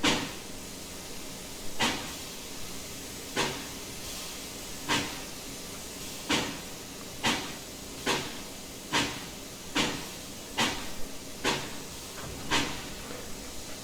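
Steam locomotive chuffing in the Trainz Simulator game, K&L Eagle River #62, a steady series of soft hissing puffs that gradually quicken as the engine pulls forward over a constant low background hiss.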